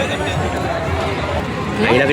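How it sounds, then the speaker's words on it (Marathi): Crowd at a Marathi village fair: a dense babble of many voices and movement close around, a steady hubbub growing slightly louder toward the end, with a nearby voice talking over it. "किती गर्दी आहे बघा."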